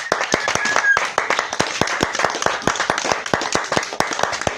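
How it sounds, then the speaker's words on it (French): Lively clapping fills a church service, many hands striking in a quick, fairly regular rhythm, loud and close, with no talk over it. "Applaudissons pour le Seigneur Jésus."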